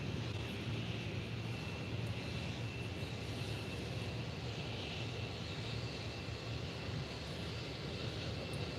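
Jet2 airliner at Faro Airport, Portugal, its engines producing a constant loud broadband roar with no break across the whole stretch, heard alone without talk.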